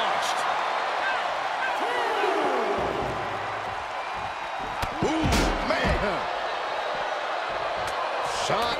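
A loud, heavy thud as a wrestler is suplexed onto the ring mat in a match between two wrestlers, landing over a cheering arena crowd while a commentator talks.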